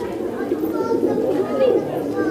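Fancy pigeons kept by a fancier give a continuous low cooing and burbling at close range, with background voices and chatter around them.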